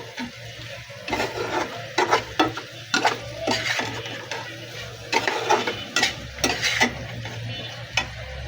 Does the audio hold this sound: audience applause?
no